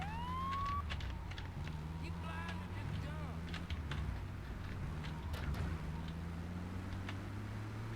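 Police car siren in the video game GTA 3, a rising wail over steady game engine and traffic noise, with other effects and someone speaking Turkish over it throughout.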